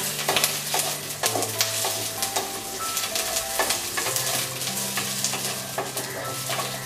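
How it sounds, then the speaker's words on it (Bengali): Onions and chopped chilies sizzle in oil in a pan for a potato and brinjal masala curry, with continuous loud frying and regular scraping stirs, no talking. "একটু নেড়ে নিয়ে পেঁয়াজটা একটু সফট হোক, তারপর টমেটোটা দেব।"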